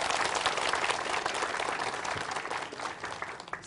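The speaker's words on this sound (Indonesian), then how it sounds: "Ya, makasih. Tepuk tangan." Studio audience at an Indonesian religious TV program applauding steadily, a dense wash of clapping that holds at full strength and tapers only slightly near the end, with no talk over it.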